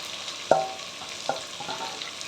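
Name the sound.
frying cabbage, capsicum, carrot, onion for chicken fried rice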